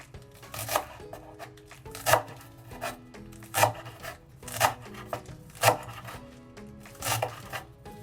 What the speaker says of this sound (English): we're going to finely cut the Chinese chives into little bits